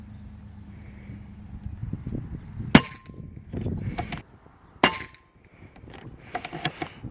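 An Air Venturi Avenger .25 PCP air rifle fires single H&N Barracuda Match 31.02 grain pellets at 50 yards, two sharp close cracks a couple of seconds apart amid soft handling rustles and clicks.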